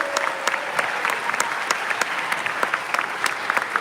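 A seated audience applauds award-winning teams and individuals at a startup pitch event, with steady, fairly close clapping and individual sharp claps standing out across the whole stretch.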